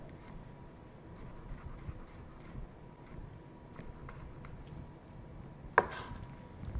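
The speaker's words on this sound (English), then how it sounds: "I'm going to do thin slices on my garlic" Garlic cloves are sliced thinly with a kitchen knife, coming through as faint, irregular soft taps over a quiet room background, with one sharper click near the end.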